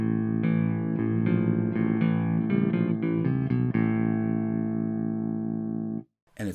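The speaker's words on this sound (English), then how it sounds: "what you're hearing is that tremolo effect, but very, very fast, and it becomes so fast it almost starts distorting." Fairfield Circuitry Randy's Revenge ring modulator pedal on a steady sustained tone, the tremolo so fast it turns rough and nearly distorted, a sub-octave below sounding underneath, changing in stepped bursts before cutting out near the end.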